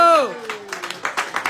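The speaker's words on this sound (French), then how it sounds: "Et enfin, des applaudissements aussi pour Khaled" A voice trails off as scattered applause rises from an audience at a Moroccan chaabi drum performance, light and uneven clapping that builds in brief bursts.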